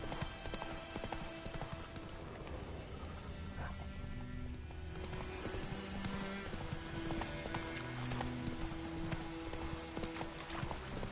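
The horse Roach gallops in The Witcher 3, steady rhythmic hoofbeats running continuously at a moderate level alongside game ambience and music tones, with no talking.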